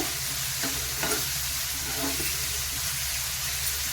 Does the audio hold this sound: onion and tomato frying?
yes